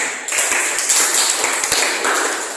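Hands clap together in a dense, continuous burst from a group in a classroom session, loud and close, with no voices over it.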